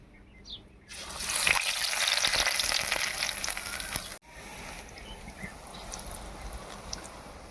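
Mirchi bajji, battered chilli fritters, fry in hot oil with a loud, dense crackling sizzle that starts abruptly, then cuts off and drops to a softer, steady bubbling hiss.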